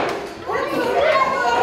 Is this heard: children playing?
yes